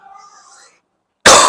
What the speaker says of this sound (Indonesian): mohon maaf saya sedang batuk sedikit